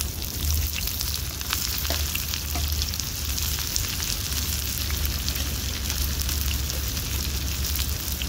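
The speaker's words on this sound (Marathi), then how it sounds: "कांदा ना आता मी परतून घेते लाल होईस्तोवर." Chopped onions and green chillies frying in hot oil on a pan, a dense steady sizzle with faint crackles throughout, close and alone.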